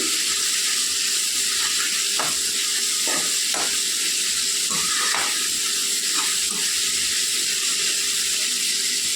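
Pieces of aanabakaaya (bottle gourd) sizzling steadily in oil for a Telugu pickle, a continuous bright frying hiss with a few short crackles and stirring scrapes, close and alone.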